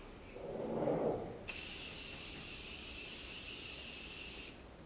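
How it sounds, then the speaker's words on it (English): A short soft rustle, then a fine, continuous mist of makeup setting spray hisses close up for about three seconds before cutting off abruptly. "let's put some setting spray on."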